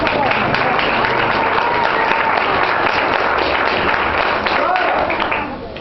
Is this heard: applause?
yes